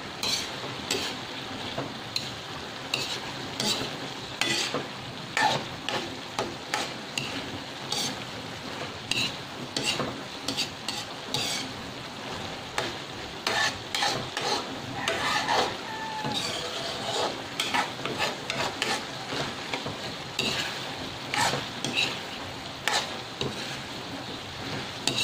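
A spoon stirs a vegetable and shrimp stew in a pan in a steady rhythm of short scraping strokes over a soft simmering sizzle, close by and fairly quiet throughout.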